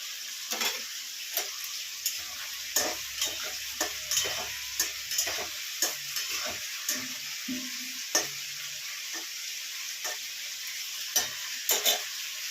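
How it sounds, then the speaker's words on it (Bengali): Paneer frying in a pan, a steady close sizzle broken by regular clinks and scrapes of a spatula stirring, the taps recurring about once a second throughout. "পনিরটা ভাজা হচ্ছে"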